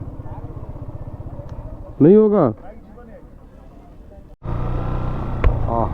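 A motorbike rides toward a temple gate in Odisha, its engine running steadily throughout, broken by a brief loud passing vehicle tone, with a person speaking briefly.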